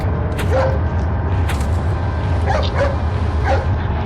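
A dog in a Resident Evil game lets out several short yips and whimpers spread over a few seconds, heard over a steady loud game ambience.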